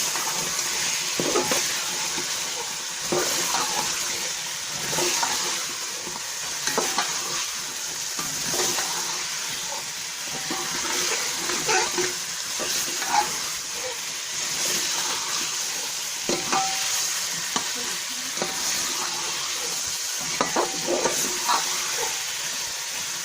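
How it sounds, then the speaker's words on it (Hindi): Potatoes stirred and frying in a masala sizzle steadily in a pan, with a continuous hiss broken by repeated scraping stirs throughout, close and even. "अब इस मसाले में हम आलू डालेंगे और आलू को डाल के मिक्स करेंगे।"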